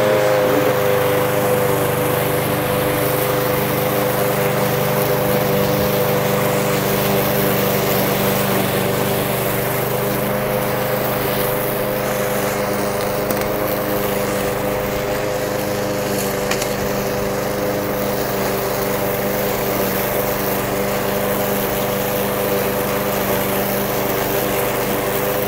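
A Snapper SP90 walk-behind lawn mower with a 175 cc Briggs & Stratton Professional Series engine cutting a huge lawn with side discharge, a loud, steady, close engine drone that holds unbroken throughout with no talk.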